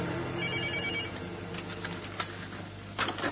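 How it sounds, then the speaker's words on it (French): A telephone rings with a repeated electronic tone, fairly faint and alone, with a couple of soft clicks and no talk. "j'entends le téléphone qui sonne"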